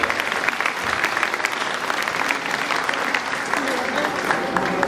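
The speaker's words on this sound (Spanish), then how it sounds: "Fuerte el aplauso, por favor." A crowd at a primary school graduation claps steadily for a student being called up, a sustained, even patter of many hands with a murmur of voices underneath.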